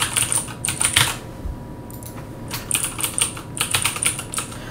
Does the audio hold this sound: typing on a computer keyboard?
yes